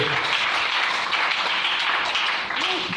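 A church congregation applauds with sustained, loud clapping and scattered cheers filling the hall, steady from start to finish.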